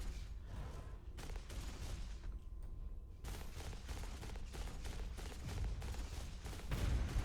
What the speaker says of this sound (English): I heard a heat cannon.